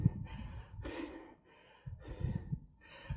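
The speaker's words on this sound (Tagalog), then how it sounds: "puro hingal na." Heavy, rhythmic panting from a rider pushing uphill on a mountain bike near a viewpoint in Nueva Vizcaya, several loud breaths close to the mic with brief pauses between them and no talk.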